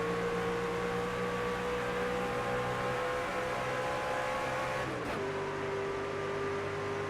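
A race car engine drones at a steady high pitch in the NASCAR 25 video game, then drops sharply with an upshift around the five-second mark and settles at a lower tone, loud and continuous.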